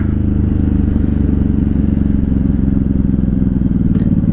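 A 1983 Honda Shadow VT750C motorcycle engine idles steadily up close, a low, even rumble that keeps going without revving.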